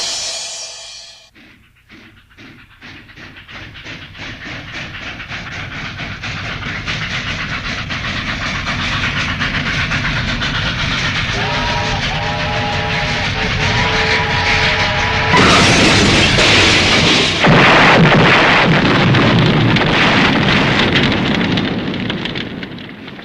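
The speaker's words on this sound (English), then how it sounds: "Two freight trains colliding head-on, each of them carrying 26 full cars of hand grenades." Two freight trains colliding head-on while carrying hand grenades, rendered as a loud, dense rumble of rolling rail cars with a tonal whistle midway and a heavy roaring crash surge that stays loud to the end.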